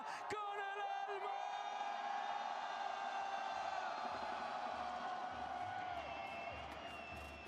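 Stadium crowd at the Valorant Masters Santiago grand final roars and whoops in a huge sustained wave of cheering, dense and loud across the whole stretch, with yells rising out of the mass.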